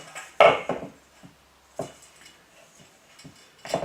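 Cookie dough studded with M&M's being kneaded by hand, giving a few soft, irregular thumps and squishes up close, with quiet pauses between presses.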